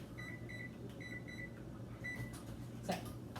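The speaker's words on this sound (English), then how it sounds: "preheat the oven to 350 so it'll be ready for you" An oven control panel being set to preheat gives a series of short electronic beeps in quick pairs and runs, faint over a quiet kitchen background with a soft low hum.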